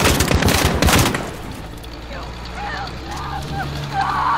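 Gunfire in the video game Call of Duty: Modern Warfare comes as a loud, rapid automatic burst for about a second, then stops, leaving quieter background noise with faint chirping.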